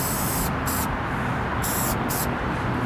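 A spray paint can fitted with a thin cap sprays during a graffiti piecing demonstration, giving a loud, continuous close-up hiss with a few brief breaks in its airy top edge.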